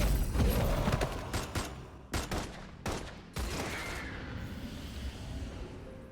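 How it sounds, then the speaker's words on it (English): Loud gunfire in the Love and Deepspace game: several sharp, rapid bursts of shots crackle through the first few seconds, then give way to a fading rumbling tail. "After the loud gunfire ends"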